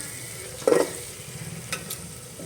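Mutton masala sizzles in a pan as a spoon scrapes and stirs it, with one sharp clatter followed by softer frying and a couple of light clinks.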